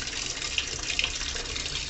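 Tap water runs steadily into thick fabric softener to thin it, a continuous close splashing hiss with a couple of small clinks partway through, no voices.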